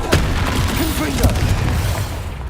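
Spell blast from the Confringo fire curse in Hogwarts Legacy, a dense booming burst with crackling impacts over a constant rumble, loud and continuous through a busy combat mix.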